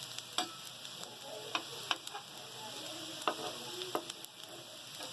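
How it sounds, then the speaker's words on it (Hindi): Chicken shami kababs fry gently in a pan, a soft steady sizzle with scattered sharp pops and ticks spread across the clip. "दूसरी तरफ से भी हमारे कबाब ये फ्राई हो जाएगा"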